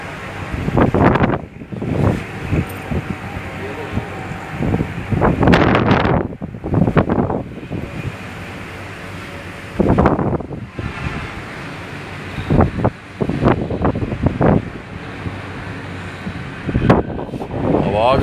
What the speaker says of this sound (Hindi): हवा अगर आप देखें तो काफ़ी तेज़ हवा है सुबह की